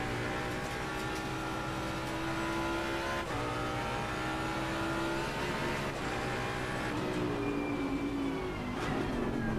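Race car engine in the Assetto Corsa Competizione racing game, a loud continuous high-revving drone with gear shifts and changing pitch as the car accelerates and lifts off the throttle.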